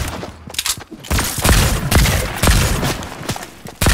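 Rapid gunfire bursts in a Marvel video game, loud, dense volleys cracking close by with short gaps between them and a final sharp shot at the end.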